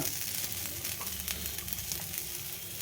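Onions, green chillies and ginger frying in a pan, giving a steady, loud, close sizzle that runs unbroken from start to finish with faint stirring scrapes.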